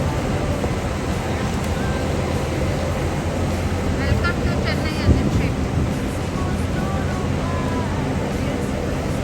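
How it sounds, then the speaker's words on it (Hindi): Outdoor wind blows steadily in Chennai. A constant broadband rush with light microphone buffeting carries a soft thump midway and faint tonal sounds in the distance. "बट हवा चल रही है वहाँ पे, थोड़ा ठंडा है"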